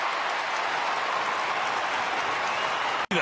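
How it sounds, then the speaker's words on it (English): A stadium crowd of Essendon fans roars with cheering and clapping after Hurley's goal against Gold Coast, a dense, steady wash of noise with a short cut near the end. "And the crowd comes to life here."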